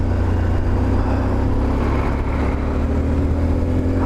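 A motorcycle engine running steadily and fairly loud after a fumbled, missed gear change, with a low rumbling drone and some wind noise throughout.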